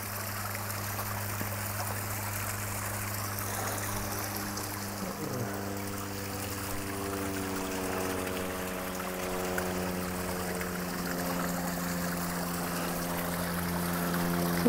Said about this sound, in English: you'll see another waterfall here and water going underneath a bridge